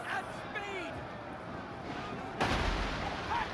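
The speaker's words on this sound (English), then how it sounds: "This is where you tear through with the artillery" Artillery fire in the video game Total War: Rome 2 booms through a battle, with heavy blasts over a busy din of combat and a voice speaking over it.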